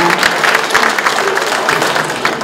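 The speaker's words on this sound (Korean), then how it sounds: "충남의 발전을 기원하는 큰 박수 다시 한번 이곳으로 보내주시기 바랍니다" A crowd at a provincial New Year reception in Chungnam applauds after a celebratory cake cutting, a loud, full burst of clapping that holds steady and tapers slightly at the end.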